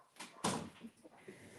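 A door being pushed shut indoors with a soft thud, followed by faint rustling and room noise. The sound is close but quiet, with no speech.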